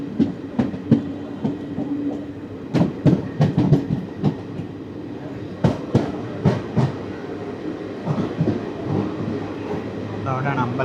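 A 12075 Jan Shatabdi Express train, with older ICF coaches, running on double line track: a steady rolling rumble with repeated sharp clickety-clack wheel beats at rail joints, close and continuous throughout.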